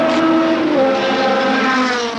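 A Triumph Dolomite Sprint race car pulls away from a pit stop, its engine note rising in a loud, steady revving drone as it accelerates off, heard alone without talk.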